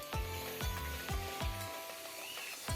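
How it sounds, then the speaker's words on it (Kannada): Green peas frying in oil with tomato for a peas pulao, a steady sizzle with soft hiss, punctuated by four regular clanks of a utensil stirring in the pan. "ಬಟಾಣಿ ಚೆನ್ನಾಗಿ ಎಣ್ಣೆಯಲ್ಲಿ ಬಟಾಣಿ ಸಹ ಫ್ರೈ ಆಗೋಂಗೆ ಹುರ್ಕೊಳ್ಳಿ"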